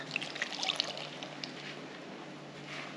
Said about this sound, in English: It's a little dry, you just keep pouring more liquid in.